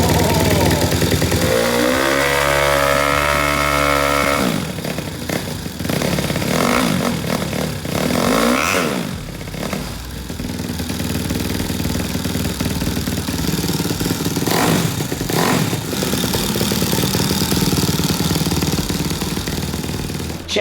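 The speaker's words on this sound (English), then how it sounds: "Look at this thing, really cool Honda monkey." A custom Honda Monkey motorcycle's engine runs continuously nearby, a loud, rough mid-pitched mechanical chatter with revs that rise and fall throughout, heard alone with no talking.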